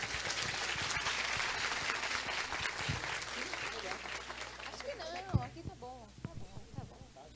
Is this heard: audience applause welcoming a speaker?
yes